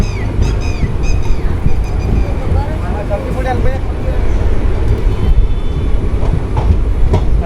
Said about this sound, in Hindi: डिपार्चर तो हमारी ट्रेन ने बहुत ही बढ़िया एस्केलरेशन के साथ लिया है